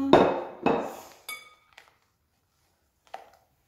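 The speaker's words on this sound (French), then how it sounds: "je viens racler les bords parce que je ne veux pas en perdre une miette" A spatula scraping chocolate brownie batter from the sides of a mixing bowl, heard as two loud scrapes followed by several fainter clinks of utensil against the bowl.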